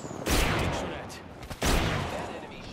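Bursts of video game gunfire in a hectic shooter match, two loud clusters of rapid shots about a second apart, each trailing off into echoing decay.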